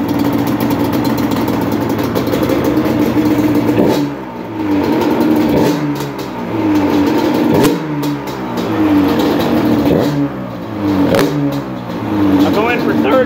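A customer's motorcycle engine with a Redline ported cylinder, hot rod crank and 6450 wide coat pistons revs repeatedly, rising and falling in loud, rough blips between steady running, while someone talks over it.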